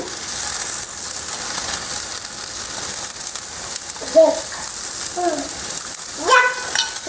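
Tomato slices frying in ghee in a pan, a steady close sizzle with a few scraping and clinking touches near the end, loud and continuous, with no speech.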